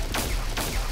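Two quick gunshots in Palworld strike a tree, each a sharp crack with a short swishing tail, spaced about half a second apart and fairly close.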